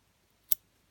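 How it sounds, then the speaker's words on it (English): Sharp scissors snipping fly-tying fibres at a tying bench: one crisp, close snip standing out against a quiet background. "Take a sharp scissors"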